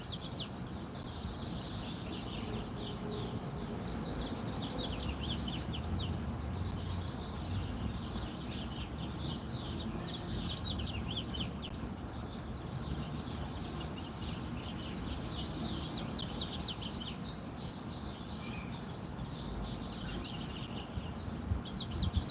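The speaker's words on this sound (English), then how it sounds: "Listen to those birds." Birds chirp and trill faintly through a steady outdoor hiss, small calls scattered continuously in the distance.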